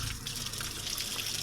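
Warm water pours from a tap into a bucket, a close, continuous splashing hiss with no talking.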